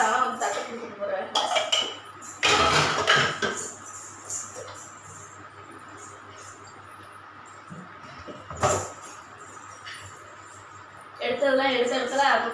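A plate and utensils clatter in a home kitchen, in several short bursts of clinking crockery between stretches of quiet, mixed with people talking nearby.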